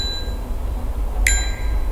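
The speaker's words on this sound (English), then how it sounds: "Gotta ring the bell." A bell in the horror game The Bridge Curse 2 rings once with a bright, clear strike, and its tone rings on and fades over steady low background ambience.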